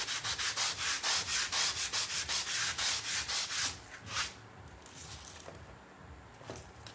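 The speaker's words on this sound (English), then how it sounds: "we're just gonna sand the edges so that the hard lines disappear around the edge" Sanding the edges of a painted piece during a floral transfer project: a close, brisk rhythmic scratching of quick back-and-forth strokes that stops partway, followed by a few lighter rubs and handling noises.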